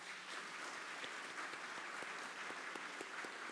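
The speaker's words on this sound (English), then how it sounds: "I think we should give our employees a tremendous round of applause." Steady, dense applause from an audience honoring county employees at the York County State of the County address, continuous clapping at moderate distance with no pauses.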